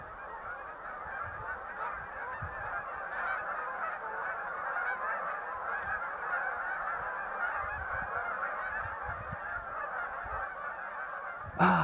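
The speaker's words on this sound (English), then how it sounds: "All these geese are landing on the ice." A flock of geese landing on a frozen lake, their honking a loud continuous overlapping chorus that carries steadily throughout, with a brief bump of noise at the very end.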